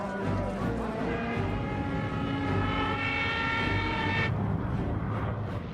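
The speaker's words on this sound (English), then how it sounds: "Planes heard 3 miles southwest." Drone of aircraft engines overhead, a steady low rumble with harmonic tones lasting throughout, loud and continuous with no talk, in a wartime air raid over southern England.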